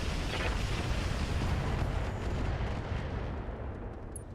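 Mech weapons firing at a target in the game BattleTech: a dense, sustained roar of heavy fire, loud and continuous, with no voices.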